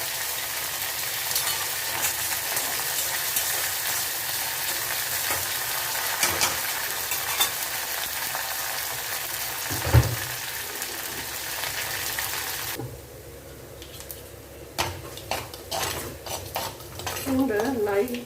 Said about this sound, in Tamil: பூண்டு லைட்டாக ப்ரௌன் கலராக வருது இல்லைங்களா